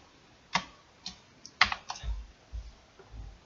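Keys clack on a computer keyboard while a formula is typed, a handful of sharp, irregular taps close by with soft thuds between them and no speech.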